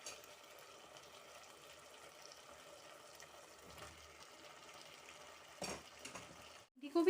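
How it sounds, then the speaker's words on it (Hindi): Fried okra being stirred into a homemade masala gravy with browned cream in a pan, a soft continuous scraping and faint sizzle throughout, with a louder clatter of the spoon near the end and no talking. "भिंडी को भी अच्छे से मसालों के अंदर मिक्स कर देंगे।"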